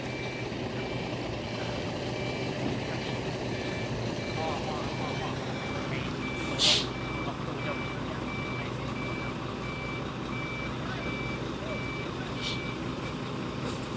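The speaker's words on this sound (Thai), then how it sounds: "ระวังนะรถติด รถติดถอยนะรถถอยเอาหัวเด้อ" A truck's reversing alarm beeps in a steady, evenly spaced series while the truck backs up during heavy work moving large tree roots beneath high-voltage power lines, with people talking and engine rumble underneath.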